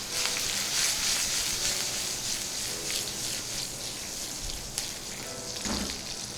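Onions with a pinch of MSG sizzle and stir-fry in a hot pan, giving a steady loud crackling hiss with occasional tossing and scraping sounds.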